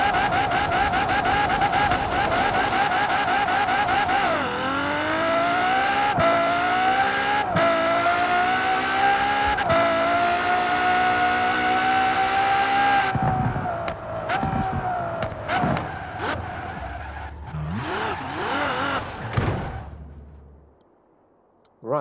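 A Ferrari FXX engine in Forza Horizon 4 howls at high revs in a sustained, loud tone, climbing through gear changes, then breaks into choppier bursts of revving and shifting before cutting off near the end.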